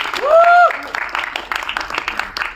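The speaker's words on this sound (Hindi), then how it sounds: "एक बार पाजी के लिए एक बार तालियां हो जाए" Audience clapping for a Punjabi singer-actor at a trailer event, a burst of scattered claps rising under a host's voice and a brief whoop or tone near the start.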